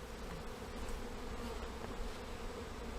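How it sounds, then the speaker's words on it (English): A dense, continuous hum of many honeybees buzzing close by during a transfer from a top bar hive to a Langstroth hive, steady and unbroken, with no voices. "watch now how the bees will start going onto the new box really quick"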